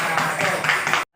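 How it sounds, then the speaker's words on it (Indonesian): A classroom of students claps for a student group, a brief burst of close, steady applause that stops abruptly. "tepuk tangan untuk kelompoknya Iza"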